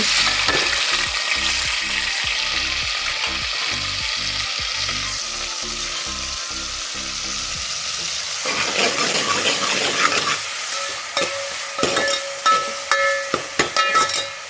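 Finely chopped tomato, onion and green chillies frying in a pan, a loud continuous sizzle with rhythmic stirring knocks at first, then a burst of hissing steam and scattered clatter from the pan.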